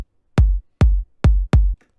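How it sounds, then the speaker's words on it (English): An unprocessed electronic kick drum in a piano-drop track hits four times alone in clean silence, each a deep, short, punchy thud with a sharp click at the start. "But normally the kick sounds like this"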